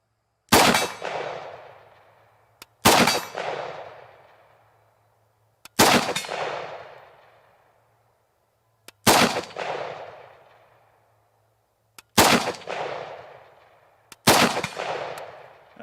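A SIG SG 552 Commando rifle fires six spaced single shots at steel targets outdoors, each sharp crack followed by a ringing clang and a decaying echo, with quiet gaps between.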